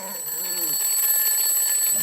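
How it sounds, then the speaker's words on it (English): An alarm clock goes off with a steady, shrill electronic ring that holds continuously for the full two seconds, close and clear, with no one talking. "my alarm went off once again"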